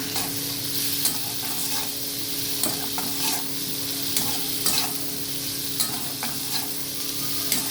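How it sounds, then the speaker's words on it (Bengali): Spice masala, salted, is stirred and fried in a pan: a continuous close sizzle broken by repeated scraping strokes of the spoon. "তাই মশলাটাকে ভালো করে সাথে মিশিয়ে ভেজে নিই"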